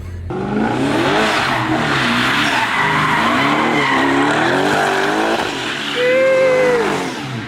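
A BMW 335i doing donuts, its tires skidding and squealing in a long continuous screech with the engine revving underneath, loud and close, rising into a sharp pitch near the end.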